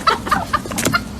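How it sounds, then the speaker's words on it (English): A farm chicken clucks in a quick run of short, close, fairly loud calls over about a second, with no talk over it. "What does the chicken say?"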